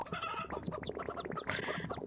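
A flock of chickens clucking and squawking all around in a VRChat scene, busy overlapping calls close by, with no talk over them.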